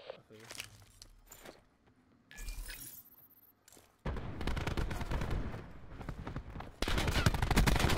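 Gunfire from a video game shooter, with scattered shots and footsteps early on. Then comes a long, dense burst of rapid automatic fire, loud and close, and after a brief pause a second heavy volley.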